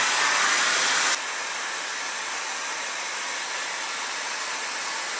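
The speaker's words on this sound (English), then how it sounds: "Only use the blow dryer." A blow dryer runs continuously while drying curly hair, a loud, steady whooshing hiss that drops abruptly to a lower, duller roar after about a second and then holds steady, with no voices.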